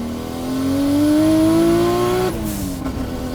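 A 650 hp RB26-powered Nissan 300ZX accelerates hard from about 4,000 RPM. The engine note climbs loud and steady for around two seconds, then drops sharply as the throttle lifts, with a brief whoosh after it.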